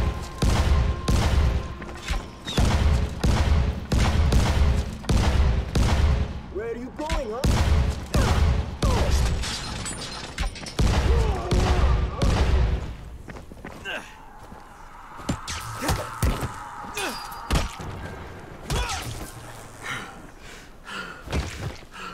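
Explosive weapon blasts in the zombie game Dying Light, a rapid rhythmic series of loud booms and bursts for several seconds, then quieter scattered impacts and rumbling, with some vocal sounds mixed in.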